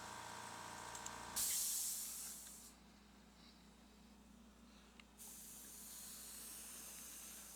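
A larger spray gun sprays paint onto a car in a garage, two bursts of hissing spray separated by a short pause, over a low background hum.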